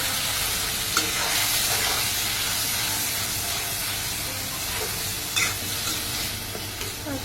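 A tomato, ginger, garlic and onion masala paste fries in a pan, giving off a dense, continuous hissing sizzle with occasional stirring clatter and no voices.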